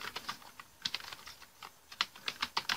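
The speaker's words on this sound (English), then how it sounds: "simply type the codes that you can see on the screen. I'm typing" Keys clatter on a computer keyboard as a command is entered in the Windows 10 command prompt, with irregular bursts of quick, close taps and short pauses between them, and no voices.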